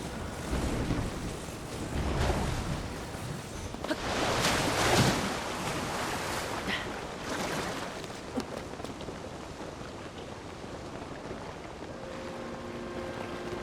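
Rushing water of a waterfall in the video game Zelda: Tears of the Kingdom, a broad, steady wash of noise with a few louder surges early on, then a quieter, even flow.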